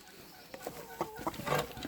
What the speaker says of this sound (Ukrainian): ну це самі голодні і самі наглі кури